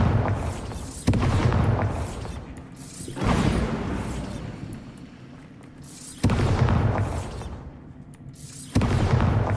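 Explosions from the Bombarda spell in Hogwarts Legacy, four sudden heavy booms a couple of seconds apart, each rolling off into a long rumbling decay, with mechanical rattling between them.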